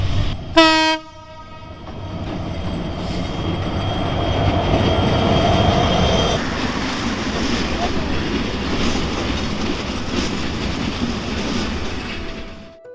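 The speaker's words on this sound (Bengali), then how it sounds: "অবশেষে আমাদের কুড়িগ্রাম এক্সপ্রেস ট্রেন আমাদের কুড়িগ্রাম স্টেশনে পৌঁছালো তিন ঘন্টা লেটে" The Kurigram Express train pulls into Kurigram station, opening with a loud, short horn blast, then a long, rumbling roll of wheels and carriages close by. A voice talks over the noise.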